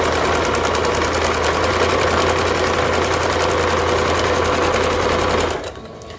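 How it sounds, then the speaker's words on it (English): A sewing machine runs a continuous straight stitch along a folded line of fabric, making paper bag bloomers, with a steady loud mechanical whir and rapid needle rhythm that stops abruptly near the end. "you're literally just doing a straight stitch along this folded line here"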